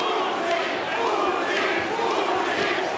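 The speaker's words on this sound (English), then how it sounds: "A chance of Usyk from the capacity crowd inside this arena." A capacity arena crowd at the Oleksandr Usyk vs. Daniel Dubois boxing bout chants loudly and continuously in a dense, roaring mass of voices.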